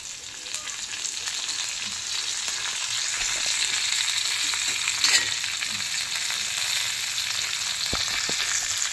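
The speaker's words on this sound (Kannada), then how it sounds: "ಈಗ ಕರಿಬೇವು ಹಾಕ್ಯನನ್ರಿ." Curry leaves sizzle in hot oil with garlic for a fish dish, a steady close frying hiss with occasional pops and stirring scrapes.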